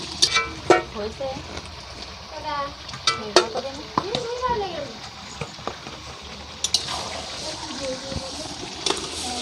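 Chicken curry with spices being sautéed in a pan, a sizzle under irregular spatula scrapes and clinks, with people talking over it close by.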